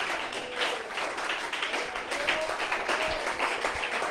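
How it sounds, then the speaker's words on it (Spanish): A church congregation applauds in praise during a Spanish-language sermon, with a continuous, somewhat muffled wash of clapping mixed with faint voices at a steady moderate level. "Alguien dele fuerte ese aplauso y esa alabanza al Rey de la Gloria."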